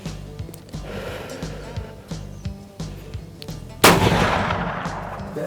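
A single loud rifle shot goes off during a late-season deer hunt, sharp and close, after a stretch of quiet periodic knocks, and its report decays slowly.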